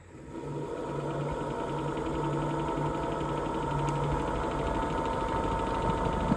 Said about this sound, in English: set your lathe at the lowest RPM, and let's give it a test spin to make sure everything looks good